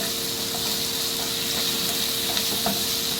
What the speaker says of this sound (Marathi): आता यामध्ये कांदा टोमॅटो हिरवी मिर्च टाका आणि चवीनुसार मीठ टाका थोडंसं हलवून घ्या